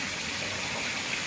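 Water rushing through a dam gate, a steady broadband roar of flowing water that fills the whole clip at an even, continuous level with no talk.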